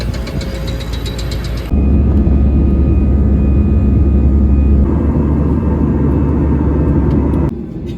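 Aircraft engines while passengers board a flight, a loud, steady broadband roar that shifts in level a couple of times and continues without talk.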